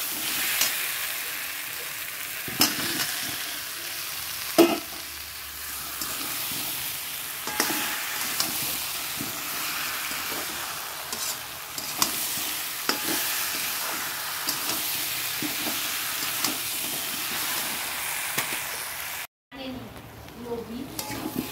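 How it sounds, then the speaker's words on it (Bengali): Mutton cooked with mango and fennel sizzles in a pan as fried potatoes are added, a steady hiss punctuated by spatula scrapes and pot knocks, cutting out briefly near the end. "দেখো কষাচ্ছি, আলুগুলো যে ভেজে রেখেছিলাম এই আলুটাও দিয়ে দিচ্ছি এর মধ্যে"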